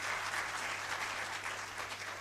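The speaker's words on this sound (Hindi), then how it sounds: "तो मैं चाहता हूं कि सबसे पहले उस आयोजन समिति के लिए तालियां बजाएं आप लोग।" An audience applauds the organizing committee at a public gathering: steady, continuous crowd clapping at moderate distance, fairly quiet overall, with a faint low hum running underneath.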